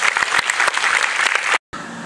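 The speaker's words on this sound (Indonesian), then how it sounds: "Kita berikan tepuk tangan." Audience applause at a talk on happiness, a dense steady clatter of many hands clapping at close range, breaking off abruptly near the end before a softer continuation.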